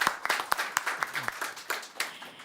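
Conference audience clapping at a live event in Tallinn, a thin scattering of separate handclaps rather than a full ovation, fairly faint and sparse, lasting a couple of seconds.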